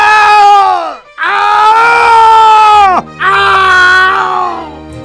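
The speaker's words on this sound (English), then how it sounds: "So here's a bunch of Spy screaming.mp3 for you." Spy character in Team Fortress 2 lets out three loud, long screams in a row, each a sustained wail that breaks off with a falling pitch, with brief gaps between them.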